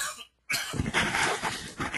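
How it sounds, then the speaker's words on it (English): A person fighting a cold coughs hoarsely after a brief pause, a single rough burst close to the microphone and then a lingering throaty rasp, with no speech. "I apologize for coughing on you"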